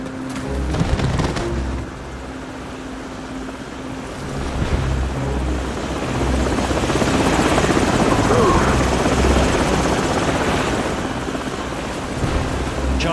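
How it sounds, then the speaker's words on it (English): Enemy helicopters in Call of Duty 4 roar as a continuous dense rotor rumble with wind-like noise, swelling louder over the second half, heard alone without talk. "Enemy helicopters."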